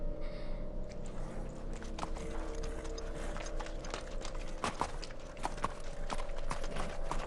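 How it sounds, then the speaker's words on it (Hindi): Horse hooves clip-clop in a steady rhythmic walk on a hard surface, heard fairly near in a 1919 Birmingham street drama setting, with faint mechanical creaks and background ambience and no speech. "घोड़े का नाम है मोनहन बॉय"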